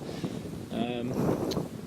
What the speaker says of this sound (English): Unfortunately, it's quite windy today.